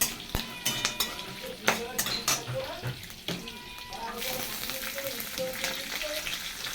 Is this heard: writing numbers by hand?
no